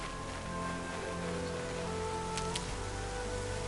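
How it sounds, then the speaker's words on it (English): Steady rain in the video game Horizon Zero Dawn patters on a surface, a continuous hiss with tonal background hum and a couple of brief high chirps near the end. "Oh, it's raining."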